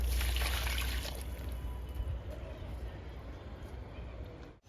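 Liquid fertilizer poured onto a curry leaf plant in a home garden, a soft trickling splash loudest at the start and fading away over a few seconds.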